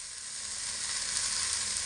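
Mashed cauliflower being pressed and sautéed in a pan, a dense, steady close-up sizzle with no talk.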